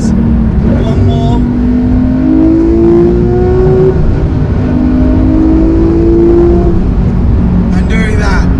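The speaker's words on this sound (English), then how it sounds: "the best way I can describe in about 20 seconds what this car's like, is by dropping it down a couple of gears." A Porsche 911R engine revs as the car drops down gears, rising and falling in loud, close sweeps with blips between shifts, mixed with road and cabin noise.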